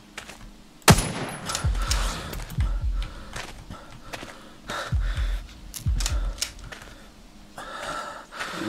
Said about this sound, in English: Let's fire up some shots.